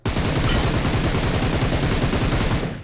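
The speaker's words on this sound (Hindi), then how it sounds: "मैंने वहीं पे गोली भरना चालू, ये देखो" Rapid automatic gunfire in the BGMI battle royale game crackles in a dense, continuous burst lasting a few seconds, loud and close, with no voices over it.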